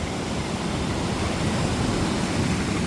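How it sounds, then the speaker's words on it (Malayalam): Sea waves breaking on a beach: a loud, continuous rushing roar of surf, close by and unbroken, with no one speaking. "കടൽ ഇങ്ങനെ എന്താ പറയുക നോർമലായിട്ട് ഇങ്ങനെ തിരമാലകൾ അടിച്ചുകൊണ്ടിരിക്കുകയാണ്"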